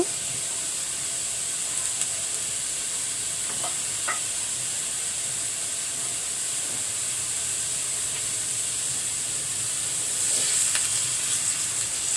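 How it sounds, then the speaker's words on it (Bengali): Onion and green chilli frying in mustard oil in a pan, a steady close sizzle with soft crackles and occasional stirring clinks, growing slightly louder near the end; no voices. "আমি কড়াইয়ের মধ্যে অলরেডি পেঁয়াজ ও কাঁচামরিচ দিয়েছি এবারে আমি সরিষার তেল দিয়ে দিব"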